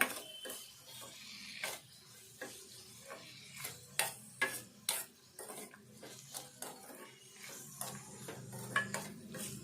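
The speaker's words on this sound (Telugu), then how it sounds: "ఈ ఉల్లిపాయ మెత్తబడేదాకా కలుపుకుందాము, మంచిగా వేగదాకా" Onions and green chillies fry in a pan for an egg curry while a spoon stirs them, with repeated sharp scraping clinks over a soft, steady sizzle, close and fairly quiet.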